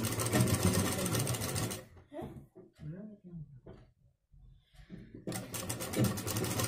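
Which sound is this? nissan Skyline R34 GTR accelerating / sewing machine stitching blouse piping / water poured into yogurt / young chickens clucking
sewing machine stitching blouse piping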